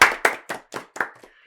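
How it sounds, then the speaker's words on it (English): Sharp handclaps from an audience at a comedy read-through, six distinct bursts about a quarter second apart, loud at first and fading away, with no talking over them. "Everybody is clapping."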